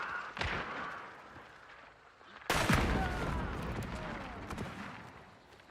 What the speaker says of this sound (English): But they start shooting each other